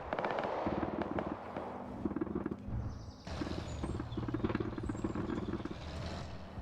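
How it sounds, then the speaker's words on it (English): Anti-aircraft guns fire in a World War II tank battle game, a steady run of rapid, overlapping booming shots with dense rumbling bursts and crackle, continuous and fairly loud throughout, with no talk. "So we hear the AA guns firing."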